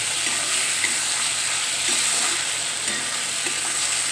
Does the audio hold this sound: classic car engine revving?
no